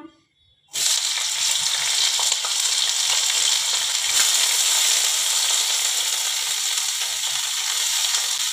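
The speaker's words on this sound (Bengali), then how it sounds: "আমি সর্ষের তেলটা দিয়ে দিলাম, আমি উচ্ছেটা দিয়ে দিলাম।" Bitter gourd pieces crackle and sizzle loudly in hot mustard oil, the steady frying hiss starting abruptly after a brief quiet moment and holding at an even level throughout.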